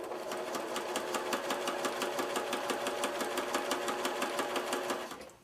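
A sewing machine stitching half-square triangles runs in a fast, even rhythmic chatter of needle strokes, steady and close, then slows and stops near the end.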